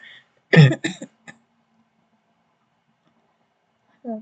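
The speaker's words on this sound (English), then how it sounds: "Pardon my coughing." A person recovering from illness coughs a short burst of two or three harsh coughs near the microphone, followed by a small throat sound and silence.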